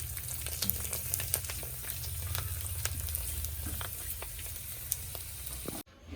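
Finger papad frying in hot oil, a steady close sizzle with scattered crackles and pops running throughout, then cutting off abruptly near the end.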